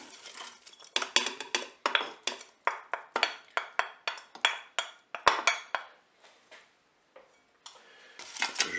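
A spoon stirs mushrooms and carrots inside a Cookeo pot for a pork colombo, giving a rhythmic series of clinking, scraping hits against the metal bowl, fairly close, with brief pauses between strokes and no talk.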